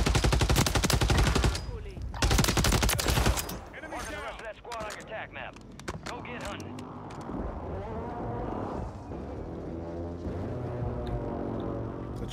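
Loud bursts of rapid gunfire in Call of Duty: Modern Warfare III open the clip, followed by quieter game sounds and someone talking over them.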